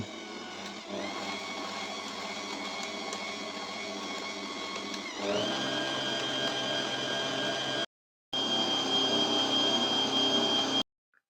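Electric mixer beating ten egg yolks, five whole eggs and 800 g of sugar in a bowl for an Easter bake, a steady near whirring drone that shifts pitch midway and briefly cuts out before resuming, no talking.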